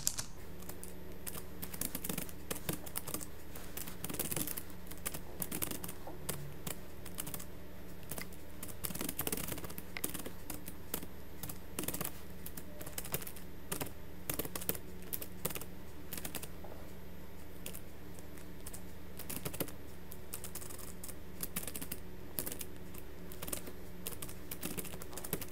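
A computer keyboard is tapped steadily while a short Turbo C program is typed, producing soft, close, continuous key clicks at a quiet level throughout.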